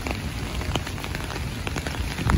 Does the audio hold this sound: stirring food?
no